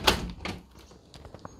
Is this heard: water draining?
no